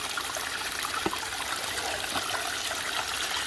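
A battery-powered 2,000 gallon per hour pump recirculates water through a gold prospecting sluice on the Lake Michigan shore, giving a steady, loud rush of trickling water with no break.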